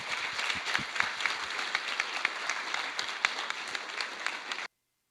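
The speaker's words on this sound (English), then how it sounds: "Can I please get another round of applause?" A conference audience applauds steadily after a keynote speech, dense continuous clapping that stops abruptly.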